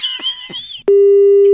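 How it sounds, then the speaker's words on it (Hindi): The phone line gives a steady electronic tone after a call is cut. A brief vocal sound comes first, then the loud, constant, buzzing tone switches on abruptly and holds to the end. "फोन काट दिया।"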